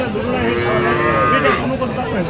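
Loud, drawn-out mooing from small cattle nearby at a livestock market in Panchbibi, Joypurhat, a long low bellow with a busy crowd murmur behind it.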